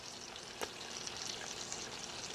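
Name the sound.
New York strip roast sizzling after Ninja Foodi cooking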